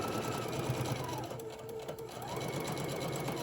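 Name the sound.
sewing machine sewing a teddy bear body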